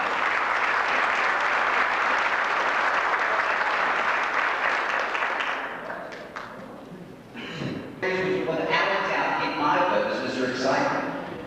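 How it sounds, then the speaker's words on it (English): A racing banquet audience applauds an award winner at a Columbus Speedway super late model event, sustained clapping for several seconds that fades, then gives way to talk and a few scattered claps. "Round of applause, everybody."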